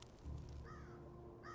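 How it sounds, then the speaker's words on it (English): Bird cawing effect from the video game Octopath Traveler, a crow-like call heard once or twice at moderate loudness over a steady low in-game music bed. "this is the first bird effect we've had in the game"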